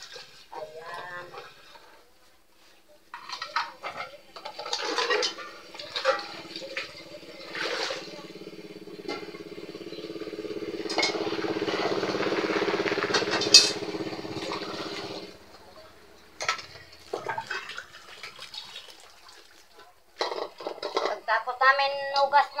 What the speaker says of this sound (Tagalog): Pagtapos namin ugas mga be ng plato